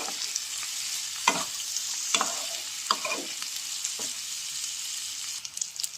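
Potato sabzi with grated coconut is stirred in a pan over a soft steady sizzle, with four or five distinct scraping strokes of a spoon at uneven intervals, close and fairly quiet.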